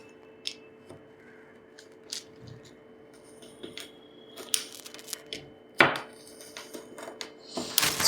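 A knife cuts slowly through a soft homemade sweet into small pieces, making faint, scattered taps and soft squishy scrapes with a few sharper clicks toward the end, close by and without talk.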